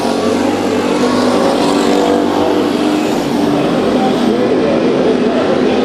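Race cars in a heat race at Bakersfield Speedway, a dirt oval, roar continuously and loudly for the whole stretch, a dense wall of overlapping engines with no pauses.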